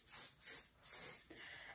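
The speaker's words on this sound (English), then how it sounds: "So I'm just going to give this a light mist all over." Hair finishing spray is misted over curls in three quick, close hissing bursts with short pauses between, followed by a softer rustle.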